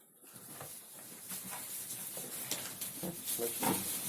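Piglets grunting and snuffling while being fed, in a steady, busy jumble of rough noise, with no one talking.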